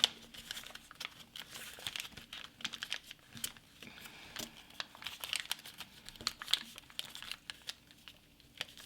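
Origami paper being folded into a turtle, with close, crisp crinkles, taps and creases in irregular bursts, some quiet pauses between folds.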